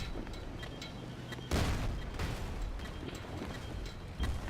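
A grenade explodes in Battlefield Play4Free, a sudden broad boom cutting into steady low battlefield rumble, with a second fainter blast near the end.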